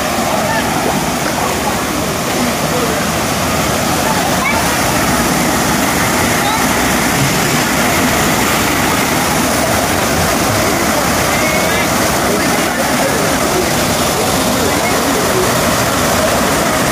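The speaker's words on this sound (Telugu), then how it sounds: "వాటర్ ఫాల్స్ ఎంతో అందంగా ఉన్నాయి కదండి" A waterfall in dense forest pours with a steady, loud, broadband roar of rushing water that runs unbroken throughout, with no clear pauses.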